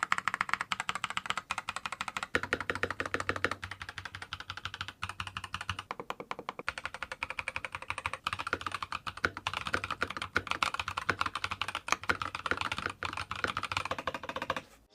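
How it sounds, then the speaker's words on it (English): Steady typing on a SKYLOONG GK75 mechanical keyboard with pink switches, dense rapid keystrokes clacking close up with brief pauses, crisp and even, no voices. "here's a quick typing test for y'all to hear what this keyboard actually sounds like."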